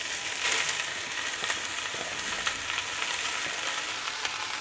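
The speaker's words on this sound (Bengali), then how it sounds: "আমার পেঁয়াজটা ভাজা হয়ে গেছে, এখন আমি আমার কেটে রাখা শাকটা দিয়ে দেব এর মধ্যে" Chopped fenugreek greens go into a pan of fried onions, and a soft, steady sizzle of frying carries on with faint stirring, quiet and close, with no talking.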